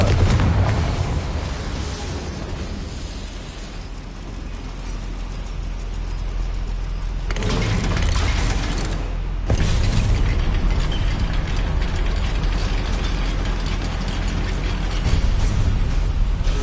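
A Confringo fire spell detonates inside a goblin mine in Hogwarts Legacy, a loud sustained rumbling blast with churning mechanical clatter, swelling into a second heavy burst partway through and holding steady to the end.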